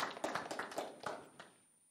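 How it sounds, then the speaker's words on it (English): Light, sparse clapping from a small audience thanking speakers at a cover crops update meeting, a handful of distinct claps that thin out and fade to near silence within two seconds. "one more round of applause for all the speakers"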